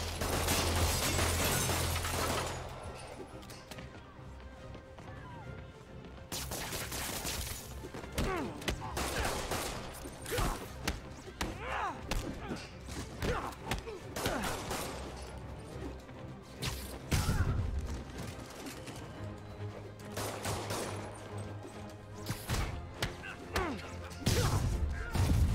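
Bursts of gunfire from criminals in Marvel's Spider-Man crackle in repeated rapid volleys, mixed with crashes, smashes and whooshing swings, loud and chaotic throughout, with occasional voices shouting over the action.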